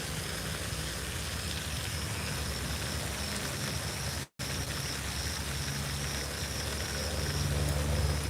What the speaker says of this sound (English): It's raining, so we can't be fishing in the rain